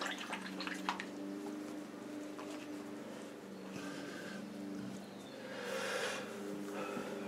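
A paintbrush being rinsed in a pot of water while painting with acrylics, giving faint, close, intermittent swishing and dripping sounds over a quiet room.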